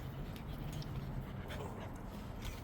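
Several puppies panting and giving soft whimpers close by, a steady breathy rustle with faint whines throughout, outdoors on a morning in Arizona.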